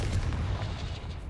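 A Confringo blasting spell exploding in the Hogwarts Legacy video game, a loud, dense, rumbling burst that booms continuously and tails off slightly across the short moment, with no talking.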